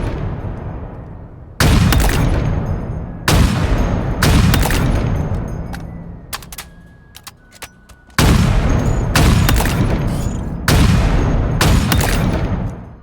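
S7 sniper rifle firing in Halo Infinite, five loud, sharp shots spaced a couple of seconds apart, each ending in a long booming decay and echo, with faint mechanical clicks between shots.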